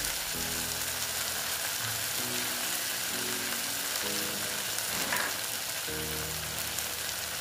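White and black mustard paste fries in a pan with a steady broadband sizzle. Low harmonic hums come and go beneath it, and no one speaks.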